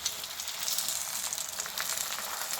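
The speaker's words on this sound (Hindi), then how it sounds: "तो अब हमने पराठे के ऊपर थोड़ा सा घी डाला है।" A paratha sizzles steadily in ghee on a hot griddle, a bright crackling hiss with small pops, close and unbroken.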